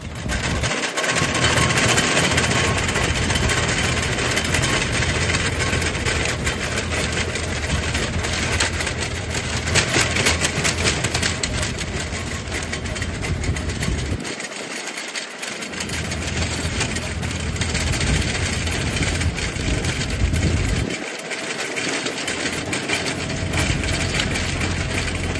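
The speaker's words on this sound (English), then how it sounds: "2 passes with the tractor on the rotavator, less than 5 minutes work" A rotavator mounted on a 22 horsepower Yanmar tractor runs loudly and continuously, with a dense, churning engine drone. Two brief dips in the low rumble occur partway through.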